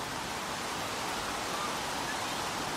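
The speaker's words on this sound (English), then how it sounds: "Raining." Rain falls outdoors on a field in Gloucestershire, a steady, even, faint hiss with no breaks or voices.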